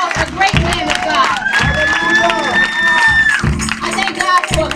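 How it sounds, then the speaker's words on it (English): Congregation at a worship service applauding and cheering for a pastor, a dense wash of clapping and voices filling the room while a sustained sung or organ-like tone carries over the crowd noise. "Can we give him a round of applause?"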